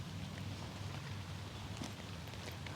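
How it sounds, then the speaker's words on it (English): Steady rain falls outdoors at a weekend yoga session, a soft continuous hiss of drops on surfaces with a low rumble underneath, even and unbroken with no voices. "It's raining."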